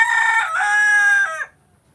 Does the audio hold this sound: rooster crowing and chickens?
yes